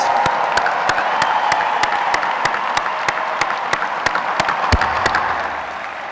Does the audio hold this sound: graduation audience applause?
yes